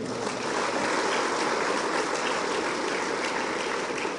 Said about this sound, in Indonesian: tepuk tangan dulu dong buat guru-guru kita di depan semuanya